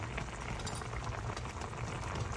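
Chicken boiling in a pan of water salted with rock salt, a steady, dense bubbling and simmering that runs unbroken throughout, close and moderately loud with no talk.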